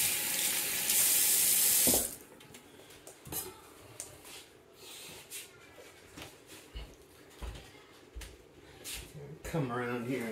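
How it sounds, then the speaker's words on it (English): Hands rinsed under a running kitchen tap, a loud rush of water for about two seconds, followed by quieter clinks and handling sounds while someone talks. "Let me rinse off my hands here."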